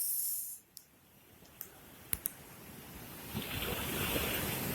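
Surf washes ashore at Ujong Lhok Geulumpang beach in Calang, Aceh Jaya, with a broad hiss, rising toward the end, mixed with wind buffeting the microphone and a few sharp clicks.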